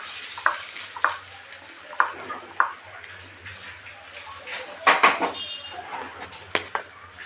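Turmeric frying in oil in a pan before lentil paste goes in, a low sizzle broken by sharp, regular clinks and scrapes of a spatula against the metal, close by.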